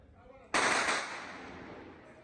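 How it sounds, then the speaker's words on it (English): Near the destroyed Al-Quds Hospital in Gaza City, a single sharp gunshot cracks out of faint background noise and echoes away over about a second and a half. "but gunshots can still be heard."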